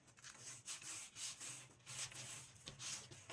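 A paper flap of a wedding guest book is burnished with a tool in quick repeated strokes, a soft rhythmic rubbing that swells and fades, faint and close, with no talking.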